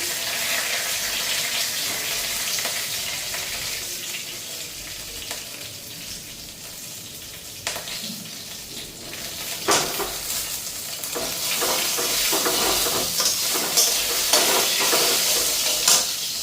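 Bay leaf and green chillies spit and sizzle in hot oil in a home kitchen, a steady crackling fry with occasional sharper pops and stirring clatter, no voices.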